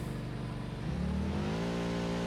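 A car driven in the factory-building video game Satisfactory, a steady engine drone that shifts pitch and revs up as it accelerates, close and even in level, with no talking.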